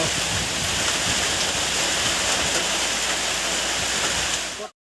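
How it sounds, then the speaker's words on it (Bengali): Heavy rain pours down steadily with a dense, constant roar, loud and close throughout before it cuts off abruptly near the end. "দূরের দিকে কত জোরে বৃষ্টি হচ্ছে"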